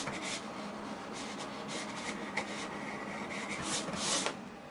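A GCC cutting plotter contour-cuts a sheet after optical-eye registration, producing a steady scratchy rubbing and whirring with short swishes of the carriage, close and continuous without talk.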